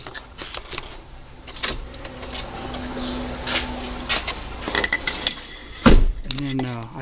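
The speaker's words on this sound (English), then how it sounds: "that's the sound of the air thing on that suspension" An aftermarket air suspension on a car gives off a mechanical whirring and hissing hum amid clicks and rattles inside the cabin, followed by a brief burst of voice near the end.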